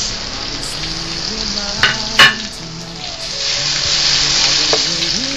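Onions and tomatoes for beef kaldereta sauté in a hot pan, a loud steady sizzle with a couple of sharp utensil clanks near the middle and scraping stirs, mostly free of voices.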